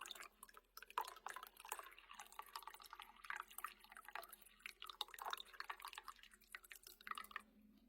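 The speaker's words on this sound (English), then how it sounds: "we can hear that water circulating through there" Water circulates through the coolant tank of a Monport MEGA laser, a faint irregular trickling and dripping with small gurgles from the pump, quiet and close.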